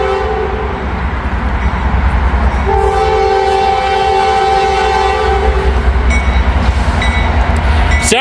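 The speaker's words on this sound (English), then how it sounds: "Little bonus train action coming up the line for you." A train rolls along the railway line close by, a steady loud rumble with sustained horn-like tones sounding through the middle, heard alone without talk.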